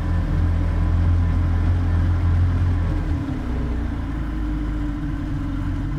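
An Evinrude 90 HP two-stroke outboard boat engine idles with a steady low rumble and drone, close and loud, its pitch settling slightly lower partway through.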